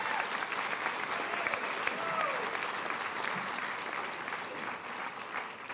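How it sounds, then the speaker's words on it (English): An audience at a high school senior assembly applauding class officers, a steady, even round of clapping from a large crowd that holds at a constant level throughout, heard indoors. "A nice round of applause for our class officers."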